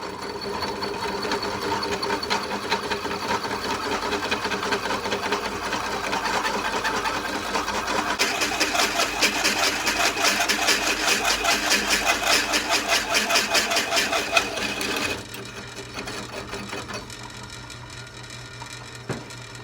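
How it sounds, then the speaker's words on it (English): A hole saw machine runs steadily at close range with a dense mechanical whir that grows harsher midway as it bites, then drops to a lighter idle near the end; no talking. "go on over to my hole saw machine"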